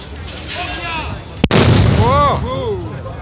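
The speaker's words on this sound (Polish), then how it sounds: "Nie będzie to głośny strzał ale abyśmy poczuli, jak ten pocisk wychodzi z lufy." A historical field cannon fires a single sharp shot at a demonstration, with a sudden loud boom partway through, set among talking voices before and after the blast.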